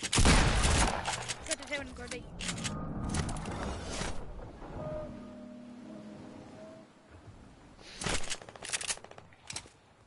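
Rapid video game gunfire bursts in the opening second, followed by mechanical clanks and creaks, with people talking over the action and more sharp shots near the end.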